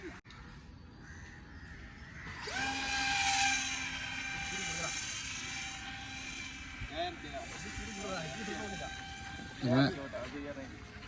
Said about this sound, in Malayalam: ലാൻഡിങ് പ്ലെയിൻ വരുന്നുണ്ട്.